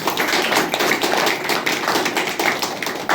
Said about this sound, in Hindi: ताली बजाएं प्रभु के लिए